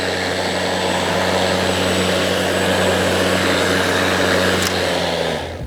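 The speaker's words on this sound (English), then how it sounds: "Turn the mower on, pull back the grey handle." Greenworks 60V battery lawn mower running, a loud, close, steady motor hum with a faint high whine that holds evenly, then winds down and cuts off at the end. No voices are heard.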